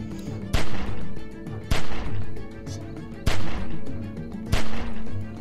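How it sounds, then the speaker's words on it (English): Gunfire in The Walking Dead 400 Days video game: four sharp gunshots spaced roughly a second apart, each followed by a short rumbling tail, loud and close over a low background of game sounds. "Remember, don't stop shooting."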